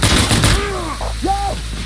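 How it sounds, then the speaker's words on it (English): Mortar and gunfire blasts in the video game Insurgency Sandstorm, a burst of loud booming shots at the start fading into rumbling, with falling whistle-like tones following. "That's mortars."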